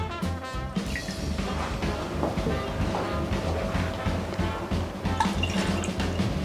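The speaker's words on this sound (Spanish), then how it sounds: "Ponemos en un cazo el agua," Water is poured into a saucepan to start a syrup in a home kitchen, giving a steady, close liquid splashing and trickling that runs throughout with no talk over it.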